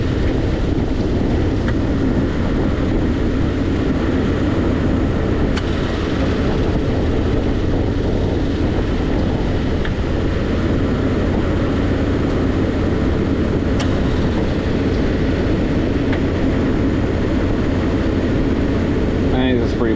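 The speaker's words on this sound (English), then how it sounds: "That compressor just kicked on." Compressor running after kicking on, a loud, constant mechanical hum and drone that holds steady throughout, with a person talking over it.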